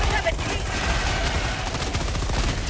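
Helldivers 2 sentry turret fighting Terminids, hammering out continuous rapid automatic fire, loud and close, with battle noise and voices mixed underneath.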